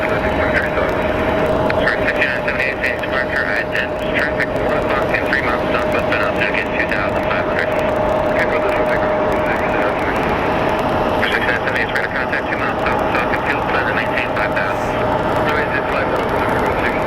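A fixed-wing airliner landing at Phoenix Sky Harbor International Airport makes a loud, steady engine roar that holds for the whole stretch, with a sustained tonal whine and a person talking over it.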